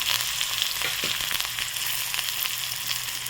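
Onion and tomato sizzle and crackle in a hot pan with garlic, a steady close frying hiss with a few brief stirring knocks.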